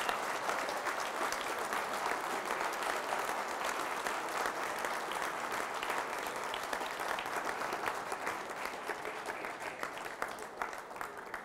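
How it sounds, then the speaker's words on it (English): An audience at a whisky distillery masterclass claps continuously for several seconds, a dense, sustained patter of many hands that thins slightly toward the end. "you can keep clapping"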